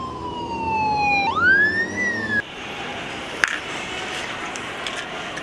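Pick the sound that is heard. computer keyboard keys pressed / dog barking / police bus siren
police bus siren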